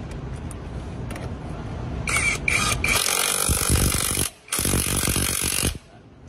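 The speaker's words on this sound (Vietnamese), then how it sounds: "Em test bắn vít gỗ này. Vít rất là dài." A Makita impact driver sinks a long wood screw: a few light taps first, then a loud, rapid hammering whir that runs for several seconds, breaks off briefly and resumes before stopping.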